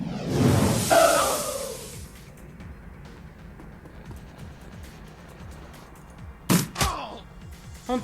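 Gunfire in the video game Shadowrun Returns: a whooshing burst at the start, then two sharp shots in quick succession near the end, loud against quiet game ambience.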